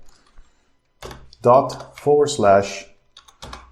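Soft computer keyboard typing as a command is entered, with a few light key clicks before and after someone talks briefly over them.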